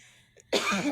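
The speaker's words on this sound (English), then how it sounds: "every time I laugh, I cough" A single harsh cough bursts out suddenly after a quiet moment, close and loud, rasping on briefly to the end.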